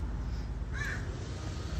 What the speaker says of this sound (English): Oh, and some crows.